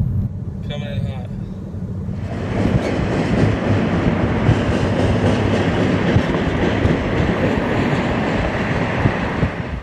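Freight train rolling into a tunnel near Tehachapi, heard from above the portal: after a quiet moment with a brief call, a loud, dense rumble of engines and clattering wagons rises and holds steady, close and continuous.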